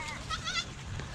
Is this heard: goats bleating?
yes